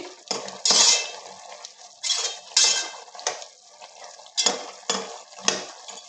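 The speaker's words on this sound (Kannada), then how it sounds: "ಚಿಕನ್ ಚೆನ್ನಾಗಿ ಬೇಯ್ತಾ ಇದೆ" Chicken cooks in masala in a pan for palak chicken, heard as a series of separate clanks and scrapes of a metal utensil against the pot with a faint sizzle underneath.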